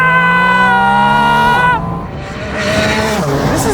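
A Porsche 718 Spyder RS engine revs hard as the car accelerates, with a loud rising howl that breaks off at a gear change, then climbs again as it pulls away, close and alone.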